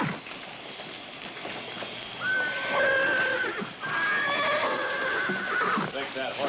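A horse whinnies loudly with a long, quavering, high-pitched neigh that rises and falls in two drawn-out bursts, set against background noise and talk, with hooves faintly shuffling.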